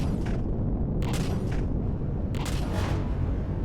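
Railgun combat in the space game Empyrion, with a few heavy booming explosions bursting out over a steady low rumble, arriving in separate clusters about a second apart.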